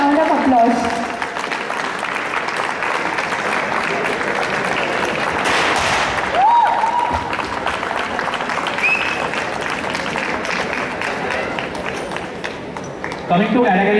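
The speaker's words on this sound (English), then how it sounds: "A big round of applause." An award ceremony audience at a college tech fest applauds loudly and steadily, a dense wash of clapping lasting most of the stretch, with a few whistles and cheers mixed in and voices near the end.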